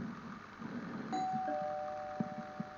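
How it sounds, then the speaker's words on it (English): A two-tone electronic doorbell chimes once, its notes ringing and sustaining, followed by a couple of faint knocks. "Stop ringing that doorbell."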